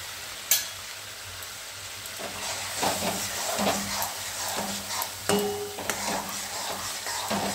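Cloves, cardamom and cinnamon sautéing in a pan make a soft, steady sizzle, broken by a sharp clink early on and several light stirring scrapes and knocks.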